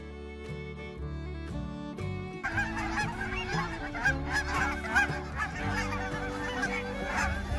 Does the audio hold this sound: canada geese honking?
yes